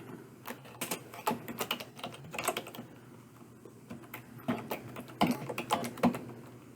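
Computer keyboard typing while HTML form code is written, with quick irregular clusters of crisp key clicks, pauses between bursts and heavier taps near the end, close and alone without speech.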